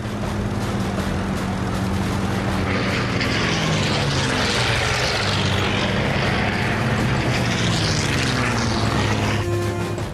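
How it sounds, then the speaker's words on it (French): A WWII fighter's piston engine roars at full power as it chases a Messerschmitt Me-109 just above the trees, a loud, continuous propeller drone that swells and sweeps past, with no voices. "juste au-dessus des arbres, moteur hurlant à 560 km/h"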